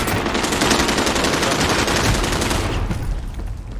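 Gunfire in Call of Duty: Warzone during a shotgun fight: loud, continuous rapid shots crackling nonstop for several seconds before easing off at the end, close and without talk.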